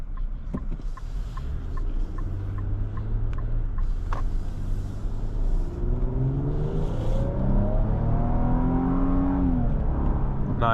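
A 2026 Infiniti QX80 Sport's twin-turbo V6 pulls steadily under acceleration, a smooth rising engine drone heard from inside the cabin on the road with steady road noise beneath it.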